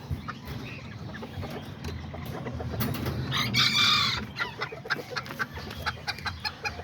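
Kikiriki bantam chickens, Azteca and Serama, cluck and chatter nearby, and one rooster lets out a sharp crow midway before the clucking resumes in short bursts.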